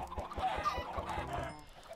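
Minecraft chickens cluck in short, rhythmic bursts close by, a few birds murmuring over each other before it quiets.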